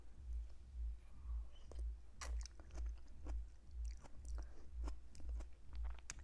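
Close, steady chewing of slightly crunchy noodles from a low-fat vegan pumpkin noodle soup, a regular rhythm of soft bites and small crunches with no talk.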